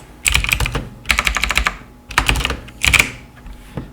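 Fast clattering keystrokes on a computer keyboard while writing code, in four distinct bursts separated by short pauses, close and fairly loud with no talk.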